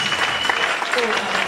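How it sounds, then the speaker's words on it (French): Congregation at a women's church convention in Liège, Belgium breaking into sustained clapping for the church fathers, a dense close patter of many hands with faint voices mixed in. "Est-ce qu'on peut acclamer pour les papas de l'église?"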